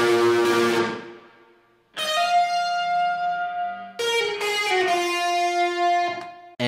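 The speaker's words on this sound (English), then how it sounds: "all it is my Telecaster run through a Marshall software emulator with some extra distortion on it" Telecaster electric guitar through a Marshall amp emulator with extra distortion strikes three big ringing chords, each left to sustain and decay, loud and up close with no talking.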